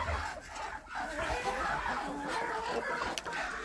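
Chickens cluck and murmur together in a farmyard, a busy overlapping chatter of birds at close range with brief rustles and a sharp click near the end.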